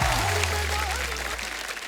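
A studio audience on a comedy talk show applauds to welcome shuttler PV Sindhu, a loud sustained roar of clapping under a host's voice.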